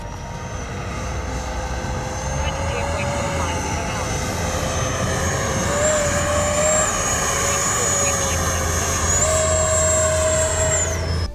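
An FMS Futura 80mm v3 electric ducted-fan RC jet flies low past, its steady high-pitched whine holding loud and close with slight pitch rises as throttle shifts, over a constant outdoor rumble.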